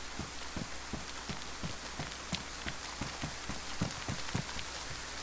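Rain falls steadily in the DayZ survival game, a constant hiss with many distinct drop taps and patters scattered across it at a moderate level.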